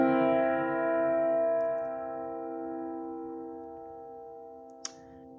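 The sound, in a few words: piano playing C dominant seventh chord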